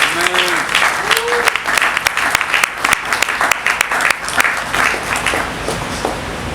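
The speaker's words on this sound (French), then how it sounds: "Applaudissons le nom de Jésus" Congregation applauding during a French-language church sermon, with vigorous sustained clapping and a few voices calling out over it.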